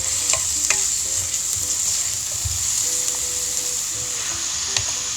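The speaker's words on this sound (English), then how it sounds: "So heat the pan with oil and then add the garlic and the onions, and then we'll season them with a little bit of salt, and then we're gonna saute it." Garlic and onions sautéing in hot oil in a pan, a steady close sizzle with faint stirring scrapes, and no voices.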